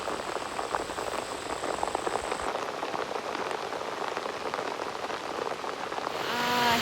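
Steady rain falls in rural Thai countryside, a dense, constant patter heard up close with no voices, and a faint tonal sound creeps in at the very end.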